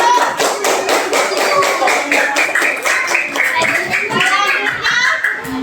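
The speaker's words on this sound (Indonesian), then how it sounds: "Tepuk tangan untuk kelompok 1." A classroom audience claps for a student group, with rhythmic, fairly loud clapping from many hands close by while children's voices chatter and call out over it.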